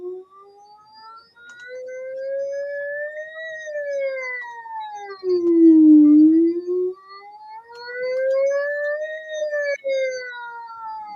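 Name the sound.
singer's voice imitating a siren, vocal siren exercise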